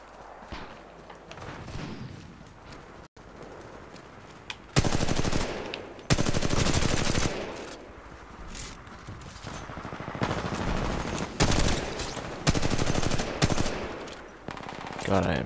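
Rapid automatic gunfire in a Titanfall 2 multiplayer match, coming in loud, dense bursts of machine-gun fire with brief gaps between volleys, close and punchy against a busy game background.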